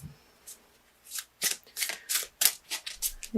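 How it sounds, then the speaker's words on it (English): Crystal Wisdom Healing Oracle cards by Judy Hall are shuffled and pulled close up, with a series of crisp riffling bursts that quicken and grow louder, and no talking. "I'll pull you an oracle card too to clarify and get some additional messages."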